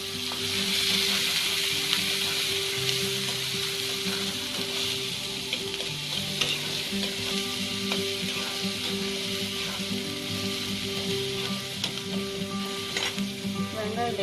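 Onion frying in oil alongside mustard seeds and urad dal, a steady close sizzle with scattered crackles and stirring scrapes throughout, no talking.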